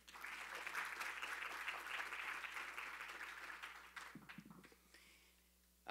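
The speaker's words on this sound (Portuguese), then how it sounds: "Uma salva de palmas." An audience at a Harvard University talk gives sustained, even applause that carries for about four seconds and then thins into a few scattered claps before fading.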